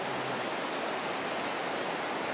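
River water flows beside a church, a steady broadband rush with no breaks or changes, heard alone without voices.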